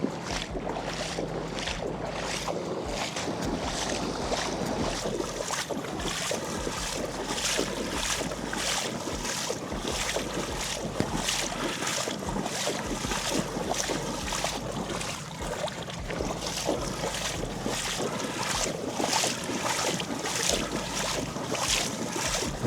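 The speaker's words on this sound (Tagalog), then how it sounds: "Lakas din yung ragasan ng tubig" Strong floodwater rushing under the Candaba Viaduct expressway, a loud, steady roar of churning water mixed with gusting wind buffeting the microphone, continuous throughout with no speech.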